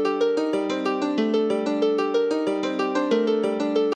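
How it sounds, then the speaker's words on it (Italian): Dark synth arpeggio for a trap-style beat, steady rapid notes weaving a high melody over a lower one, with punchy drum hits underneath; loud, continuous and alone with no talking. "La cosa figa di questo arpeggio è che è articolato in modo da creare una top melody e una low melody"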